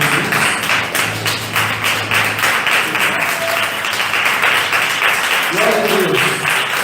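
Church congregation clapping hands in praise at a worship service, continuous dense clapping throughout with a voice speaking over it briefly.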